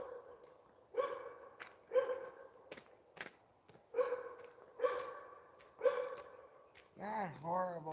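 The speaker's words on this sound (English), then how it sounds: "Oh, stop your barking." A dog barks about six times in short, evenly spaced, fairly loud barks, then makes a longer whining howl at the end.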